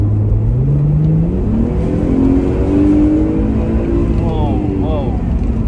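A Mercedes-Benz SL 350 (R230), rated at 315 brake horsepower, revs up loud and close, its engine note climbing and falling in a smooth rising whine.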